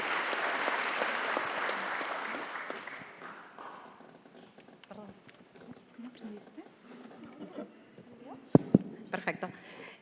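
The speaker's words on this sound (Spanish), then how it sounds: "Un aplauso para Sara." Audience applause at a conference on regulatory quality and administrative simplification, loud and dense for about three seconds, then fading into scattered claps and a voice starting to speak.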